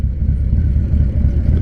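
A Harley-Davidson M8 124 with a stage 3 build idles in a deep, steady, close rumble for a brief moment.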